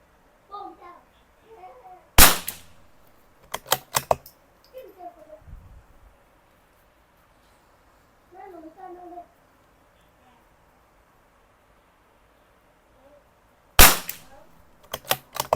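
Rimfire shots from a CZ 457 Jaguar rifle with a 23-inch barrel fired at a 50-meter target, a sharp single crack followed by a quick cluster of three, then a pause and another tight group near the end, with faint background sounds between.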